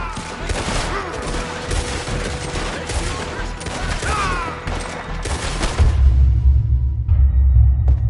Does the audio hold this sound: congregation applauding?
no